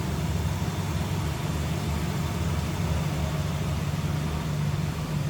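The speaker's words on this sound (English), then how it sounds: "Nice throttle response on that." A 1966 Ford Mustang Coupe engine runs close by with a steady, dense low-end drone and no clear peaks, holding an even level throughout.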